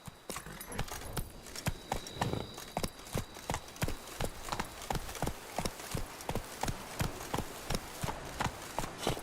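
Horse hooves from The Witcher 3 pounding in a steady galloping rhythm, close and fairly loud, with regular clip-clop beats running throughout and no talk over them.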